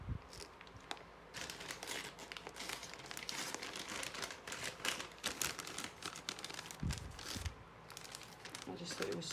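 Gift bags made from wrapping paper are handled, giving soft crinkling and rustling paper sounds that continue through the clip, with talk heard over them.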